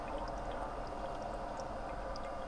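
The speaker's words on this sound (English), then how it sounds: "The filter is running pretty good. It's got 2 bio wheels." An aquarium filter fitted with two bio wheels runs on a cichlid tank, water spilling back in a steady, soft trickle with small splashy droplets over a constant low hum.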